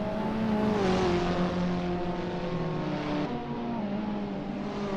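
Abarth 500 race car in Assetto Corsa racing at Prague, its engine droning loudly and steadily with a rising and falling harmonic whine, several cars close together and no talking.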